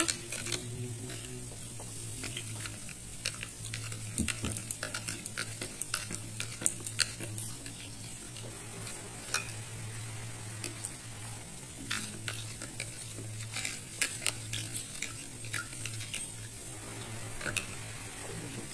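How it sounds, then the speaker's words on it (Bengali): A spice paste of cumin powder and Kashmiri red chili powder is stirred and mixed, giving rapid scraping and clinking strokes over a faint steady sizzle and a low background hum. "এখন আমি খুব ভালো করে এটা গুলে নেব"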